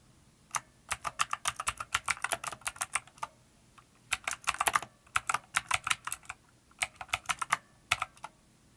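Computer keyboard typing close by, two quick bursts of crisp key clicks separated by a short pause, then a few scattered taps, with no talking.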